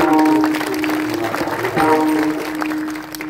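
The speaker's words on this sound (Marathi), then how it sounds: "आपण सगळेजण जोरात टाळी वाजवू" An audience at a devotional kirtan clapping together in a steady rhythm, loud and close, mixed with sustained musical tones.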